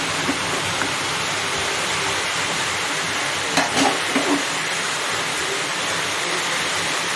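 Mutton curry stirred in a pressure cooker, heard as a steady loud wash of sizzling, frying noise throughout, with a few brief scraping knocks near the middle.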